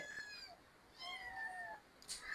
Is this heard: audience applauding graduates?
no